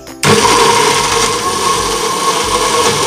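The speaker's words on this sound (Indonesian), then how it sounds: "Sama seperti biasanya kita akan blender kurang lebih 1 menit sampai benar-benar halus semua." An electric blender grinds spice paste for Betawi-style opor ayam, starting abruptly and then running at a loud, steady whir with a slight fluctuating churn as the ingredients are pulverized.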